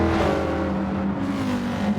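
GrB and Group 4 race cars battling in a racing video game, a loud continuous engine drone with a sliding pitch as a car holds speed, close and alone.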